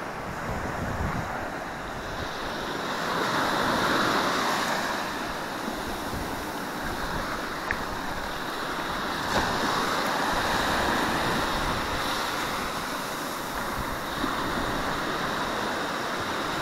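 Ocean waves washing onto a beach, a steady broad roar of surf rising and falling in slow swells, mixed with buffeting wind noise on the microphone, with no voices.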